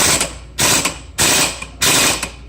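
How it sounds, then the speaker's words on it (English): An impact wrench rattles in three short bursts as it loosens the faceplate bolts on a scooter, loud hammering chatter close by, with quiet pauses between the blasts. "On some of these impact wrenches, don't just hold the trigger. Do little tiny blasts."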